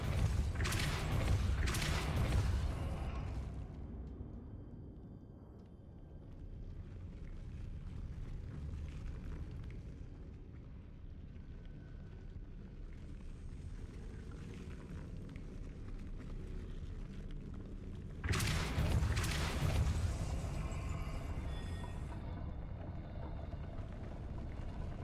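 Depulso force spells cast in the Hogwarts Legacy video game, two loud whooshing blasts, one at the start and another near the end, over a continuous low rumbling game ambience.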